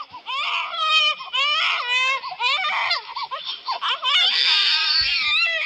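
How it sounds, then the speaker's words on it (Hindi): A baby cries loudly and continuously nearby, wailing in strained, wavering bursts with brief catches of breath between them. "आखिर ये बच्चे की रोने की आवाज किधर से आ रही है?"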